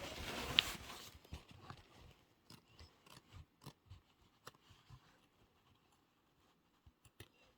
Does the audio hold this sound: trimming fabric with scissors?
yes